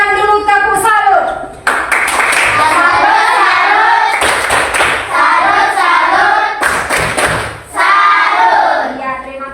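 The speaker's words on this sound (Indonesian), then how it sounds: "berikan dulu tepuk salut" A school class claps out a rhythmic salute, several bursts of sharp, loud group hand-claps and thumps close by, separated by brief pauses, with children's voices mixed in.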